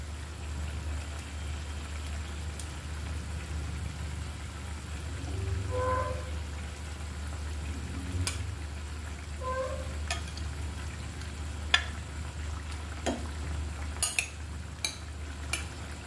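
Pieces of katla fish go one by one into a pot of simmering curry, making soft splashes and a faint bubbling hiss over a steady low hum, followed by a few sharp utensil clicks near the end.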